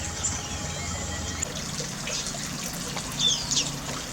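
A small stream of flowing water where munia birds bathe, a steady close trickle and gurgle running throughout with faint bird chirps above it.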